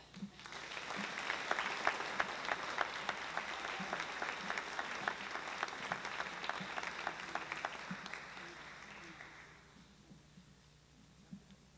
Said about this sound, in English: would you please join me in applauding them?